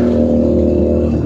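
A Keeway SCR 250 motorcycle fitted with a Rez Speed exhaust holds a steady, loud rev close by, a continuous deep engine drone with no talking.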